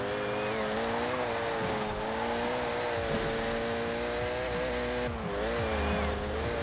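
A compact sports car driven in Forza Horizon 4, its engine droning steadily with shifting harmonic pitch as it revs and eases, plus brief tire noise, continuous and close throughout.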